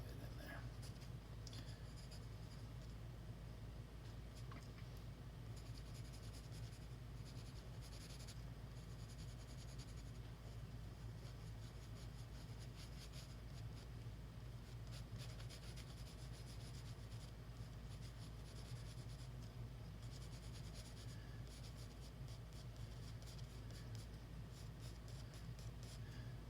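A pencil scratches and rubs across paper while an apple is drawn and shaded, a steady soft rasping that runs faintly and continuously throughout.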